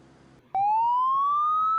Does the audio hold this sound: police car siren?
yes